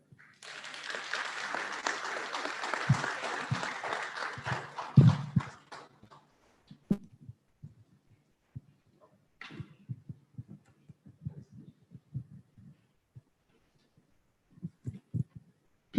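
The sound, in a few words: audience applause at awards ceremony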